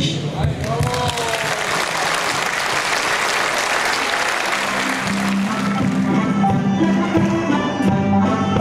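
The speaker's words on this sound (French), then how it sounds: "ça mérite d'être apprécié et je dirais applaudi" An audience at a Téléthon event claps in warm, sustained applause that fills the whole stretch, with a voice briefly heard over it.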